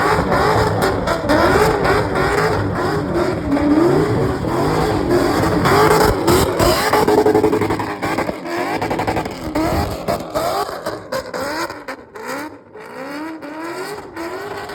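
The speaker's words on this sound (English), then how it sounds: "But it was cool to see Fink driving that GK Tech Z, actually" A GK Tech Z car at a motorsport event revs hard and continuously, its engine note rising and falling in loud, close, raspy bursts with no talk over it.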